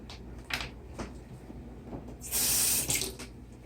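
A kitchen tap briefly runs water into a sink to rinse out the last of a mustard jar: a short, loud gush lasting under a second amid soft clinks and handling noises.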